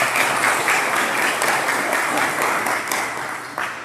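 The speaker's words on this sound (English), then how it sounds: "Can we give them a round of applause?" A conference audience at a South Florida healthcare association education event on green hospitals gives a loud, sustained round of applause that starts strongly and fades slightly toward the end.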